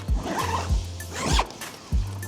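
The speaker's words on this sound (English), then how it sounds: "I'll show you how to zip it open." A zipper on the rooftop access hole of a CSS Touring 270 XL awning is pulled open in several short, rasping strokes, close and clear against a soft outdoor background.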